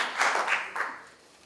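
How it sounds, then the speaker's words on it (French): A few people in an audience clap briefly for a speaker, giving a short, uneven patter of claps that swells twice and then fades out within a second. "On applaudit Odile."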